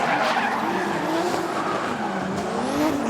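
Drift cars at the D1NZ National Drifting Championship slide sideways with continuous loud tire squeal and skidding. The squeal is layered with high-revving engines whose pitch rises and falls, and the sound stays dense and steady for about three seconds without talking.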